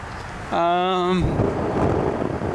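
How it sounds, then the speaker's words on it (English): A brief tonal hum gives way to strong gusts of wind buffeting the microphone at a Tesla Supercharger station in Rolling Meadows, Illinois, a rough, steady roar close by. "Windy as heck out here"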